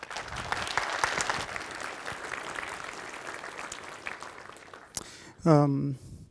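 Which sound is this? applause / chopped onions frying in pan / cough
applause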